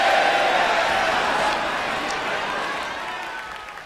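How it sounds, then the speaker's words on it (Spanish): Audience applause in the idol-management game Idol Manager as the idol group Tokyo Girls Styles Fighters leaves the stage: a dense, steady wash of crowd clapping that fades slightly over a few seconds. "Cuando las Fighters de Tokyo Girls Styles comienzan a abandonar el escenario, el público aplaude."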